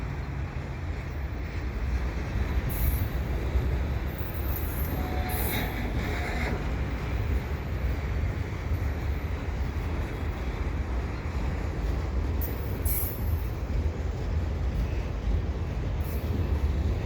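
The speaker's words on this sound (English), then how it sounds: "I have almost no doubt that this train is going into that tight curve." A CP freight train hauled by blue-and-gray CMQ (Central Maine and Quebec) locomotives rolls through a tight curve near a bike path in Dorval, a steady loud continuous rumble of wheels and railcars with faint flange squeals, no talking.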